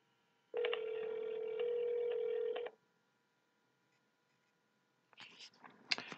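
An incoming call alert on the Intulse phone dashboard gives one steady electronic ring tone for about two seconds, clear and alone. A faint voice follows a few seconds later.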